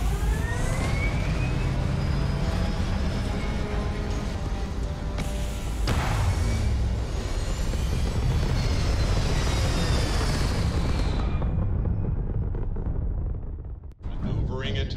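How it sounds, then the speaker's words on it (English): Starfield spaceship thrusters fire in a sustained roaring whoosh with a low rumble and rising tonal whine, swelling midway and cutting off abruptly near the end, while a voice speaks over it. "All thrusters firing."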